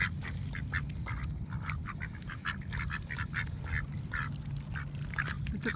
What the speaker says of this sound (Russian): Моя хорошая уточка.